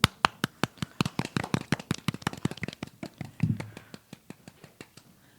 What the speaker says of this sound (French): Je pense que c'était une belle conclusion en applaudissant